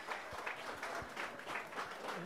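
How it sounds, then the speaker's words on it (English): A brief flurry of applause rises from a distant, sparse hurling crowd at a Tipperary senior hurling match between Nenagh Éire Óg and Kilruane MacDonagh's, soft, steady clapping heard faintly. "a little flurry of applause here"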